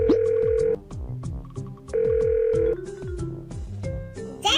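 A cartoon telephone rings after a number is dialed, two long electronic ring bursts separated by pauses, each followed by bouncy descending musical tones, with no voices.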